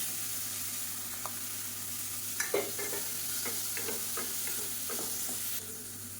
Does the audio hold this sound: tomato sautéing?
yes